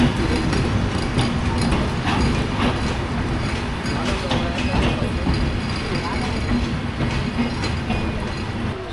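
Banalata Express from Rajshahi pulling out of Dhaka Airport station toward Dhaka, a steady loud rumble of rolling coaches with rhythmic wheel clatter throughout.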